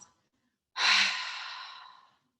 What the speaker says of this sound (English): Take a big inhale through the nose. Exhale through the mouth.